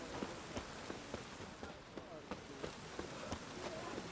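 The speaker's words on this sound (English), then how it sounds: "Rain again." Rain falls steadily in the video game Witcher 3, a soft continuous hiss with faint, regular thuds spaced through it.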